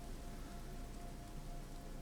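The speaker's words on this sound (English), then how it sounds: "And it's raining." Rain falls steadily on an alien planet in the video game No Man's Sky, a constant soft hiss that fills the short stretch with no talk over it.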